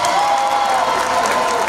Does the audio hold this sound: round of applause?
yes